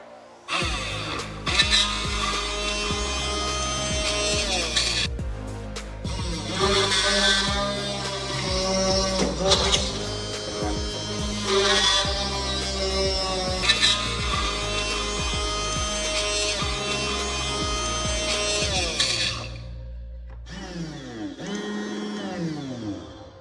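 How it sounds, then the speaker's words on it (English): A homemade automatic drill bores into a wooden board, its motor whirring loud and steady with pitch wavering under load for about twenty seconds, then cutting off before a brief final spin-up. "Let's drill into this wooden board."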